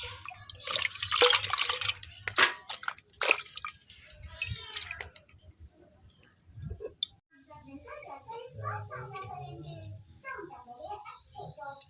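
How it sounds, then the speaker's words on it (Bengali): Freshly caught fish are poured with water into a container at home, with splashy sloshing bursts followed by drips and trickles, close by, while people talk. "চলো মাছগুলো এবার ঢেলে নেবো"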